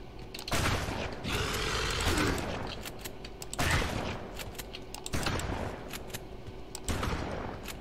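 Shotgun blasts in the game Cryptis, several loud booming shots spaced a second or more apart over constant busy background noise, with faint mechanical clicks between them.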